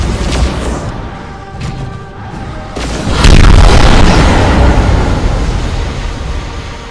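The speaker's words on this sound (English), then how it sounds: "Placing explosives. Placing explosives. Ready to detonate" Explosives detonating in the strategy game Dawn of War: Chaos Rising, with a loud, deep boom and rumbling blast that swells after a few seconds of battle noise and lingers as a sustained roar.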